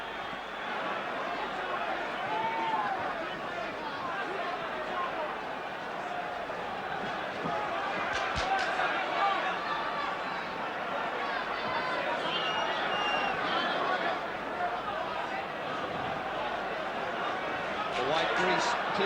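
A large arena crowd at a WBA featherweight title boxing bout keeps up a loud, steady roar and babble of displeasure for the whole stretch. A commentator talks over the noise throughout.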